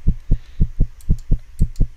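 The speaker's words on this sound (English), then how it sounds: "That heartbeat's starting to piss me off because it's getting annoying." Looping heartbeat sound effect from the horror video game One Late Night, nine steady thumping double-beats over two seconds, loud and close with a faint ambient hum behind it.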